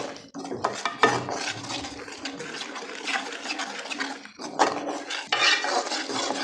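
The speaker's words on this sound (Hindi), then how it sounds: "घी में हमने इसको अच्छी तरह से भूनना है यहाँ पे" Panjiri mixture roasting in ghee in a pan, heard as steady scraping and stirring with metal utensil clatter and a faint frying hiss, continuous and close with brief pauses.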